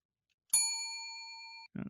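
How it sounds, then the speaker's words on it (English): A single bright bell ding strikes once and rings out clearly for about a second before fading, followed by a brief voice. "That's the extra Grifka bell"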